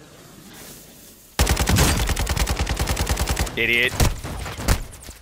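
Rapid automatic gunfire from the Call of Duty video game, loud close bursts of rattling shots with a few single cracks after, alongside a short spoken remark.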